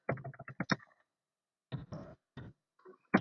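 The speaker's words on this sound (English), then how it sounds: "So I'm typing here" Keyboard keys are typed in quick clustered bursts of sharp clicks, close and clear, with short pauses between groups.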